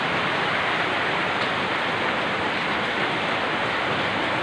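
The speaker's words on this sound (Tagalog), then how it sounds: "Pero ang ulan ay sobrang napakalakas." Very heavy rain pours down outdoors during a storm, a steady dense hiss that stays loud and unbroken from start to end with no voices.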